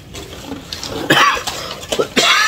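Several harsh coughs from a person, short bursts spaced across about two seconds, close and fairly loud, with faint background clatter at a fast-food breakfast table.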